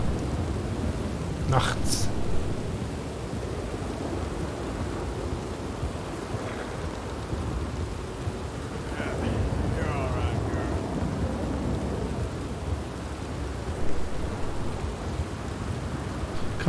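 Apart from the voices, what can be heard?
heavy rain at night in Red Dead Redemption 2, video game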